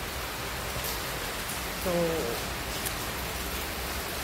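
Steady rain falling outside an office on a stormy morning, a dense, even hiss filling the whole clip, while someone says a single word quietly under it.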